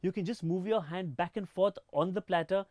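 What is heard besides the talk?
No everyday noises stand out.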